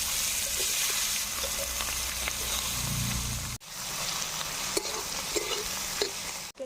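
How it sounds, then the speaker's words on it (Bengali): Chopped onion sizzles steadily in hot oil alongside dried red chilli, bay leaf and panch phoron tempering, a continuous close frying hiss with occasional stirring scrapes. "আর পেঁয়াজ কুচি দিয়ে দিচ্ছি।"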